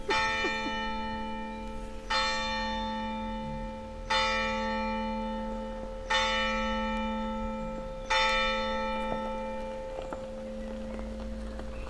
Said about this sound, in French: c'était les cloches de la petite église sur la colline en haut de la ferme Saint-Siméon à Honfleur